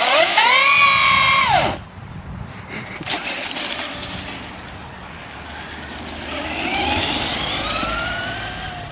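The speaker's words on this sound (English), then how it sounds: "Got a little burnout for the camera." A Traxxas Stampede 2WD VXL RC truck does a burnout outdoors, its electric motor whining up in a high rising pitch that cuts off abruptly, followed by quieter motor whirs and another rising whine.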